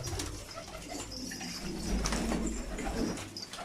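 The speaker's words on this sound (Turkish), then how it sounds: "Kuşumuzu yakalamış bulunuyoruz. Çok güzel bir yavru." A young pigeon held in the hand gives soft, low coos, faint and close, within a noisy outdoor rumble.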